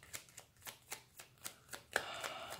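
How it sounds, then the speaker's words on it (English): Two decks of tarot cards shuffled by hand at close range, making quiet, regular riffling bursts about every quarter second, with a slightly longer, busier shuffle near the end. "I'm gonna shuffle, then I'm gonna read."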